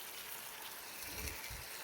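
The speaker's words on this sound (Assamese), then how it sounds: "এতিয়া মই ভালকৈ মাছটো লৰাই ল'ম।" Small fish are stirred in a hot cooking pan, giving a faint, steady sizzle with a few soft, low scraping thumps from the stirring near the end.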